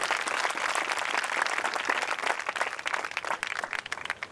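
A church congregation claps their hands in thanks to God during a Hindi-language sermon, producing dense, energetic applause that stays loud and continuous for the whole stretch with no speech over it.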